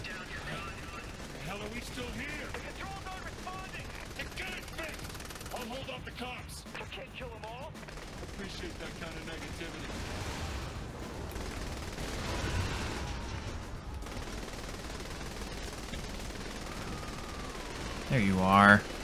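Video game gunfire in Saints Row 3 crackles in dense bursts of shots and automatic fire beneath overlapping voices and game noise, running steadily throughout, with a louder burst at the end.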